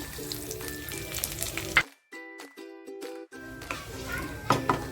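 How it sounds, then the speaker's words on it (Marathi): Grated coconut and whole spices roast in a hot pan with a soft, steady sizzle. The sound is close and moderate, with background music playing throughout. "खोबऱ्यामध्ये जे खडे मसाले घेतले होते ना ते टाकते"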